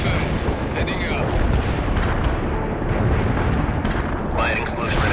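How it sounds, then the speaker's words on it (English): Heavy artillery fire in the video game World in Conflict, a dense, continuous rumble of overlapping booms and blasts, loud and sustained throughout, with radio-style voices talking over it. "I have incoming artillery fire on all my positions"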